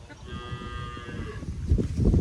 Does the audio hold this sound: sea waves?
no